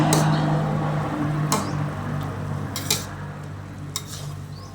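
Chinese cabbage and pork stir-frying in a pan, with steady sizzling under repeated loud metal clanks and scrapes of a spatula against the pan, close and busy.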